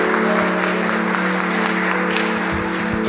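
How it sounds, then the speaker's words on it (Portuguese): A church congregation applauds during a worship service, a steady bed of clapping under a sustained tonal hum of music or organ, evenly loud throughout. "Vamos dar um aplauso bem forte ao Senhor"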